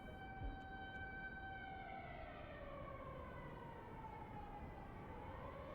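A storm warning siren wails outside, its tone sliding slowly downward in a long faint sweep with steady background hiss and no talk.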